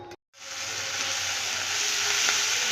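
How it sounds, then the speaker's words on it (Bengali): Onions frying for an egg curry, a steady close sizzle that starts after a short silence and grows slightly louder as it continues, no voices. "পেঁয়াজগুলো ভেজে নিচ্ছি"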